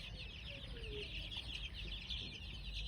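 Chickens cluck faintly as they creep slowly closer, soft scattered calls over a low, steady background.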